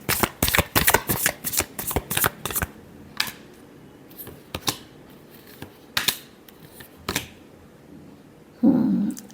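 Tarot cards are shuffled up close in a rapid flurry of crisp riffling snaps, followed by sparser single flicks and a soft thump near the end.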